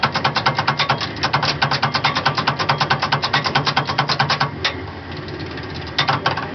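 A motor in Hitachi train electrics runs as it resets the camshaft, a rapid steady mechanical chugging with regular pulses, briefly easing off and then resuming, close and loud.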